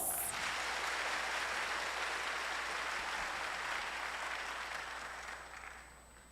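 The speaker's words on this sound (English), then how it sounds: "a round of applause to Madam Marikit Opos" Sustained applause from an audience at a community gathering, a steady even wash of clapping that holds strong and then tapers off toward the end, with no voices over it.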